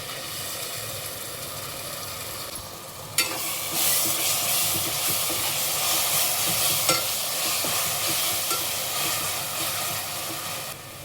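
Onions and ground masala sauté in a pan for green pea pulao, giving a loud, steady sizzle that holds throughout, with stirring and a brief clank of the utensil partway through.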